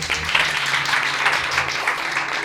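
A church congregation applauds and acclaims during a Friday worship service, with steady, dense clapping and cheering that holds at a fairly even level throughout.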